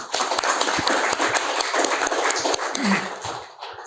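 An audience at a book presentation breaks into dense, steady applause that fades slightly toward the end.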